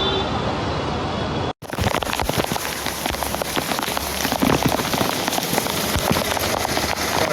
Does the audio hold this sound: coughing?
no